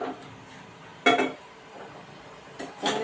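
A pan is set down on a gas stove, giving two short metallic clanks about a second and a half apart against a quiet kitchen background.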